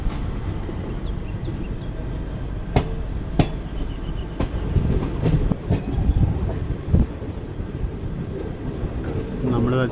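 The 17230 Sabari Express rolls along the rails, heard from inside an AC First Class coach: a steady, loud rumble with evenly spaced clicks of wheels crossing rail joints.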